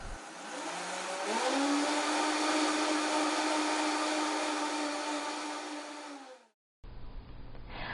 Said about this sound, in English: you can always add a little more water to the blender and give it another whirl